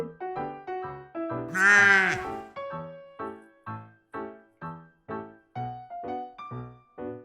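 A lamb gives a single loud, quavering bleat early on, followed by a steady run of short plucked melodic notes.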